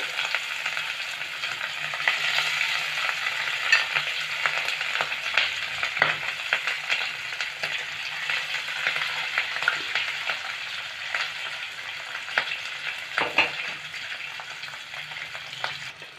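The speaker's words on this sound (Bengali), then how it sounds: "তেলটা গরম হয়ে গেছে, মাছগুলো এবার ভেজে নেব" Rohu fish pieces fry in hot oil with a steady, dense sizzle throughout, broken by occasional sharper crackles and spits, close and continuous with no talking.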